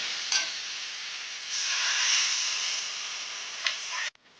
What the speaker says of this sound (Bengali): ভেজে রাখা আলুগুলো এর মধ্যে দিয়ে ভালোভাবে কষিয়ে নিতে হবে